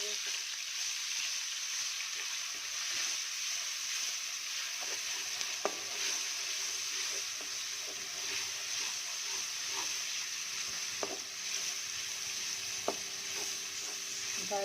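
Masala spices with ginger garlic paste fry in a pot for a rajma curry, a steady soft sizzle and hiss with occasional stirring clinks, close and continuous.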